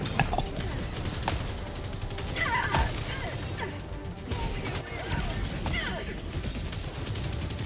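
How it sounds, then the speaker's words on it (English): Sustained rapid gunfire from a Gatling gun in the Helldivers 2 video game roars loud and dense throughout, with crashes and impacts mixed in and players talking over it. "Gatling gun."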